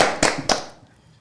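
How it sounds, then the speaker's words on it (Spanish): A couple of sharp, close hand claps in a podcast studio, two distinct strikes a fraction of a second apart that quickly die away into quiet. "Un aplauso por eso."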